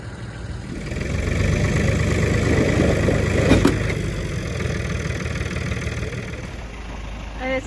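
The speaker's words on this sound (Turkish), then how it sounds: "arabanı karavanı çekmeye traktör çağırdık." A heavy tractor engine rumbles continuously up close while towing a car, its low drone swelling slightly then holding steady, with faint voices in the background.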